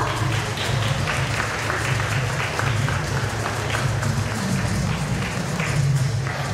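A prize-distribution audience claps together, forming a dense, continuous wash of applause that holds steady throughout, with a low murmur of voices underneath.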